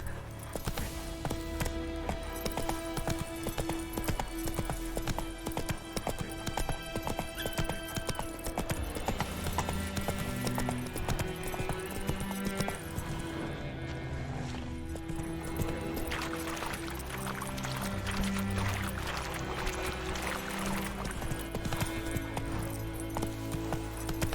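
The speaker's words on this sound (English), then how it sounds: "Just run, Roach." Hooves clip-clop steadily as a horse gallops in The Witcher 3, a continuous rhythmic pounding under game music and ambience, with a brief whinny.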